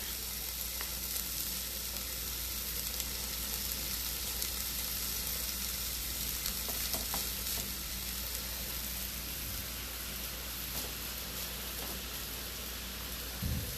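Kielbasa sausage frying in a pan alongside cabbage, giving a steady, dense sizzle that holds evenly throughout with faint scattered pops and no talking.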